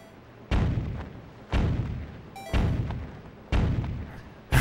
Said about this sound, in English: So we just have to hope the cannons don't shoot us down.